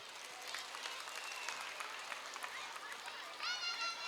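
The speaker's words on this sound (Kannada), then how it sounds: "ಈ ತಂದೆ ತಾಯಿಗಳ ಪ್ರೀತಿಗೆ ನಮ್ಮ ಮಕ್ಕಳು ಒಂದು ಚಪ್ಪಾಳೆ ತಟ್ಟಲೇಬೇಕಲ್ವಾ?" An audience at a school annual day celebration claps for the parents, a fairly faint, even patter of applause that swells slightly toward the end amid some crowd murmur.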